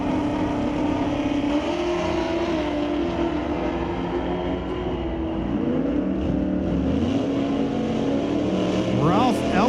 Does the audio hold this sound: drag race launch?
yes